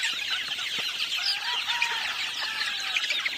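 A flock of about two hundred chickens clucking and chattering continuously, with a dense layer of overlapping hen calls and some brief wing flaps, fairly close and steady throughout.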